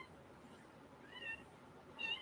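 A cat gives two short meows, the second slightly louder, against a quiet indoor background.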